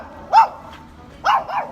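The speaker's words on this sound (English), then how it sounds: "Hi doggy!" A dog in Budapest barks twice, short sharp woofs about a second apart, close and fairly loud, the second bark followed by a quick extra yip.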